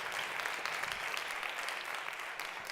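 An audience at a public presentation of local voting results claps in steady, dense applause that fills the whole stretch at a moderate level, with no talking.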